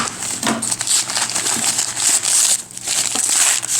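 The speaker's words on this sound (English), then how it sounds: "Get through the tape." Packing tape crinkles and rips as it is pulled off a cube puzzle's shipping package, several close, loud tearing and crumpling bursts with brief pauses.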